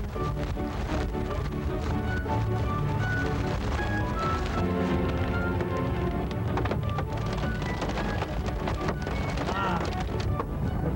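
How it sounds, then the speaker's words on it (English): Hail falls steadily during a storm chase, a dense, loud, continuous clatter that pounds on a surface throughout, with no pauses. "I thought for once we finally got away from the hail, and then here it came again."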